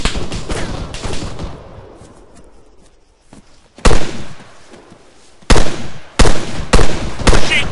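Heavy gunfire in the military video game Arma 3, bursts of close, loud automatic fire and single shots, followed by a quieter stretch and then several more sharp, powerful blasts in quick succession.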